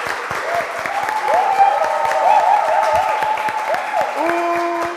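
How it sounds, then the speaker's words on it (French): An audience applauds to vote for a team at a live show in Côte d'Ivoire, steady, dense clapping with crowd noise and a voice over a microphone through most of it. "Par applaudissement."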